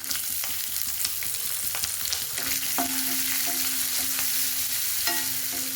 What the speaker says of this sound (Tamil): ஒரு 2 நிமிஷம் வதக்கிக்கலாங்க. ரொம்பவும் வதங்க வேண்டாம் வெங்காயம்.